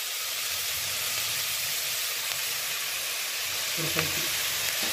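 Mutton kaima masala sautéing in a pan with mint added, a loud constant sizzle and hiss with faint scrapes of stirring, while someone speaks briefly in Tamil near the end.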